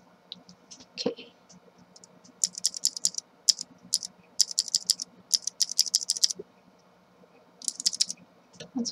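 Cherry MX Blue mechanical keyboard switches without O-rings clack in quick, crisp bursts of keystrokes up close, with short pauses between runs and faint background noise.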